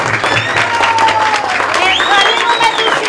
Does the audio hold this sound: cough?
no